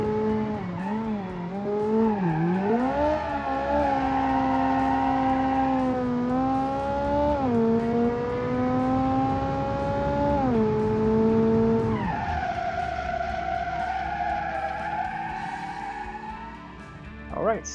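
A rally car in BeamNG.Drive, built as a small two-door, revs hard through the gears with a rising and falling engine whine, shifting up several times before one clear gear change near the end, steady and close, with no talk over it.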